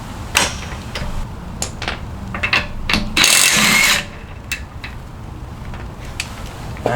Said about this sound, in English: Next you want to change your gun to loosen, and then just use your wheel lock.